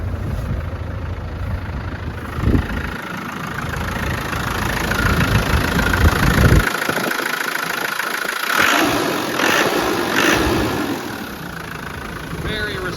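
A 1995 Land Rover Defender 90 with a 300Tdi diesel engine starts up and settles into a steady rumbling idle, close by and fairly loud, with a voice speaking briefly over it.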